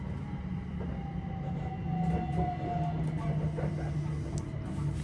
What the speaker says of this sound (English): this train's now coming on Royston, which is here